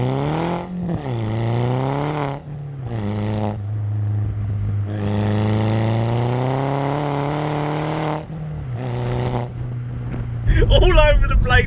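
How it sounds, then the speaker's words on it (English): A modified Seat Leon Cupra R, its 225 bhp engine running a stage 2 map and a hybrid K04S turbocharger making 280 horsepower, pulls hard through the gears with a loud, close, rising engine note broken by brief shift dips. "It has the 225 brake horsepower engine up front, but this one, as you can hear, isn't standard."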